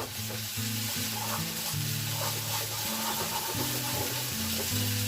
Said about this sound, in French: Augmenter le feu des champignons.